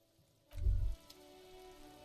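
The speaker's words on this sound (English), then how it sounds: "Rain drips from the eaves and floods." Soft steady rainfall in the video game Disco Elysium, with one brief low thud early on and a quiet continuous patter afterward, no speech.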